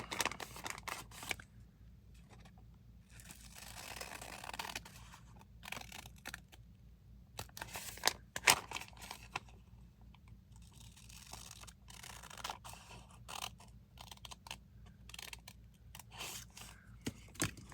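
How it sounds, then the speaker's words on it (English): Brisk clipping and snipping from a pair of scissors trimming folded paper, a cluster of sharp snips repeating at uneven intervals, close by with light rustling between cuts. "Let me take my scissors and trim on the folds here."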